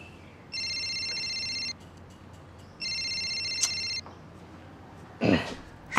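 A telephone rings in two electronic bursts, each about a second long, separated by a short pause, fairly loud in a quiet room, followed by a brief rustling noise.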